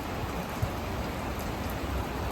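Steady rain falls at night during a night shift, a dense, even patter with no pauses, fairly close and unbroken by any voices.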